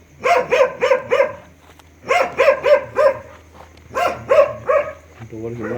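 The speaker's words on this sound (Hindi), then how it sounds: "ये कुत्ता भी भौंकने लग गया है।" A dog barks loudly and close by in three rapid bursts of four or five barks each, separated by brief pauses.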